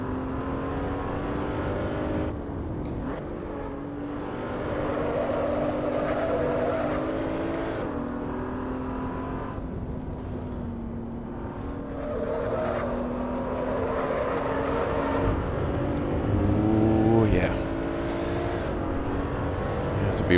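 A race car engine in the Assetto Corsa racing game drones and shifts pitch through a corner, a steady loud in-car tone with brief rises and dips as the throttle changes, continuous throughout.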